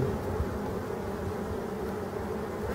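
Black forest bees in Brittany flying about on a spring day, a continuous low droning buzz that holds steady and close throughout, with no voices.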